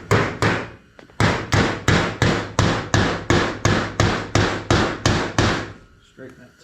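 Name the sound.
hammering a metal tab straight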